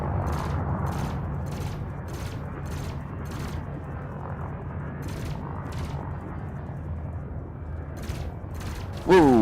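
Enemy ship turrets fire in Elite Dangerous, two quick clusters of rapid, evenly spaced bursts over a steady engine hum, with a fainter third cluster near the end.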